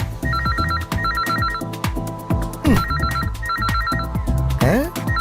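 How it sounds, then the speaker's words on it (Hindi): Warbling electronic telephone ring repeating in regular trilled bursts for several seconds, loud and close, over background film music with sweeping effects and no talking. "क्या बकवास फोन है, बेकार टाइम पर बजता रहता है।"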